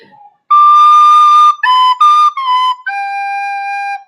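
A recorder plays a short run of clear, bright notes, each one separately tongued with a crisp start and brief gaps between them.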